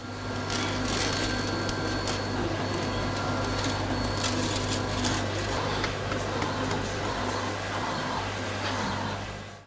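A 3D printer hums and whirs steadily up close for about ten seconds while filament is fed through to the nozzle, with a constant low motor drone and faint clicks, and no talk.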